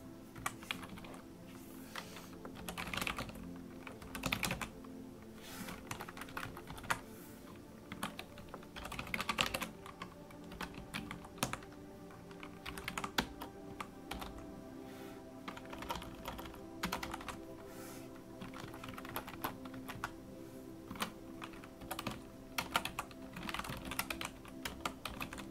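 Someone types on a computer keyboard during a software tutorial session, with irregular bursts of clicking keystrokes and short pauses, close and fairly quiet, with no speech.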